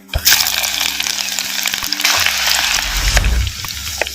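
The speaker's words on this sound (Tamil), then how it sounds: "சின்ன வெங்காயம் நல்லா எண்ணெயில் வதங்கிருச்சு" Peeled, chopped small onions (shallots) fry in oil with mustard and cumin seeds, giving a loud, close, crackling sizzle with some stirring. A low rumble builds near the end, and no one speaks.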